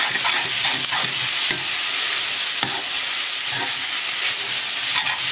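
Cooking oil sizzles steadily in a frying pan while carbonara is being made, a dense, continuous hiss with a few soft stirring scrapes, close and fairly loud with no voices.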